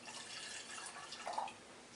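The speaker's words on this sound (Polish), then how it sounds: "I uzupełniamy ubytek wody w dolnym." Water poured into the lower pot of a Turkish double tea kettle (çaydanlık), a steady close trickle of liquid filling the vessel for about two seconds.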